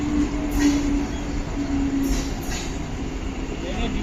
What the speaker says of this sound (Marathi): धीमी लोकल थोड़े ही समय में प्लेटफॉर्म क्रमांक 2 पर आ रही है।